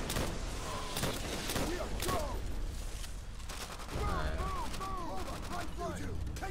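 Gunfire from an M1 Garand rifle in the Call of Duty: World at War campaign, with several sharp shots spread across the clip amid a busy battle mix of other firing and voices.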